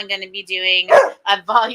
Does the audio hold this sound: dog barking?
yes